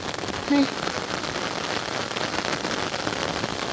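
Steady rain pours down, a dense continuous hiss of drops hitting surfaces, with a brief low tonal blip near the start.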